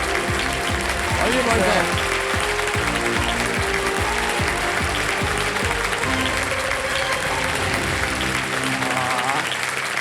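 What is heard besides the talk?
studio audience applause on a game show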